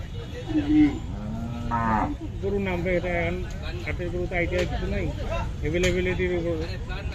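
A sacrificial cow at a busy Eid cattle market in Uttara moos in long, loud repeated bellows close by, with nearby voices talking throughout.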